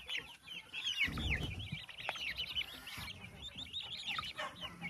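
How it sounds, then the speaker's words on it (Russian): Chickens cluck and chirp steadily while being herded into an enclosure on a farm with fresh straw, a dense flock of overlapping calls close by with no talking. "А ну-ка, заходи в вольер быстренько. Заводи цыплят."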